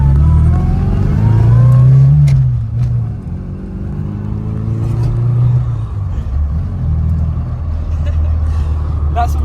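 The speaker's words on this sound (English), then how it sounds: "So we are now out in the little Mini Cooper." A 2000 classic Mini Cooper engine drones and revs while driving, a loud, low buzzing note that rises and falls with gear changes, with faint road and wind noise and a voice talking over the engine in the cabin.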